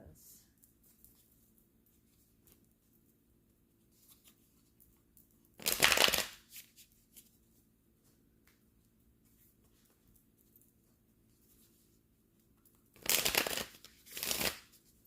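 Tarot cards are shuffled in three short, crisp riffling bursts with quiet pauses between them, recorded close up against a near-silent background.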